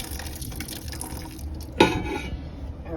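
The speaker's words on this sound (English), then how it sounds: "Okay, so the juice is going in the bowl." Juice pours into a bowl in a kitchen sink, a faint trickle under background noise with one brief louder splash and clink partway through, close by and without talk.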